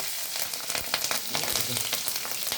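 Dried red chillies and white cumin seeds crackle and sizzle in hot oil in a kadai, a steady close frying hiss with small popping bursts throughout, no voices.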